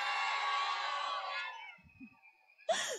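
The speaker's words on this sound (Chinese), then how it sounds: "最大声的欢呼声在哪里？" Outdoor summer concert audience at a seaside evening show in Chiayi, Taiwan, roaring and cheering loudly for the first half, fading out, with a few scattered shouts and a brief burst near the end.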